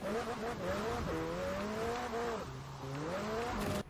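McLaren 720S drifting in Forza Horizon 4, engine note rising and falling through repeated revs and gear changes with tire squeal and skidding underneath, loud and close, with someone talking over it.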